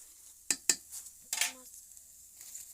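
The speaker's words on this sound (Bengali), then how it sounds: "এখন আমি কয়েক পিস মরিচ দিয়ে নাড়াচাড়া করতেছি" Mashed potato with chilies gets stirred in a pot, giving two sharp spoon clacks against the metal and then a brief scraping swirl, all quiet with a faint sizzle underneath.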